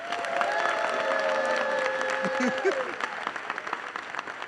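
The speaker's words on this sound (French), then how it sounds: "applaudissons-nous encore" Applause and some cheering from a comedy-show audience roll on under a speaking voice, steady at first and thinning toward the end.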